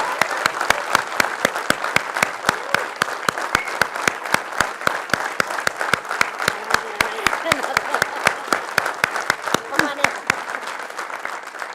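A large audience at an indoor business felicitation event applauds in sustained, dense clapping that continues loudly for about ten seconds before stopping.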